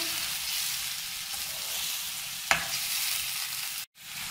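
Chicken karahi sizzles steadily in a hot pan, with a spoon stirring and scraping once before a brief pause.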